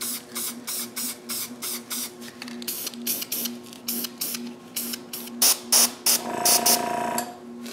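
Short bursts of spray paint hiss onto wooden nutcracker pieces, about twenty quick pulses of varying length, with a low hum underneath and a longer spray near the end.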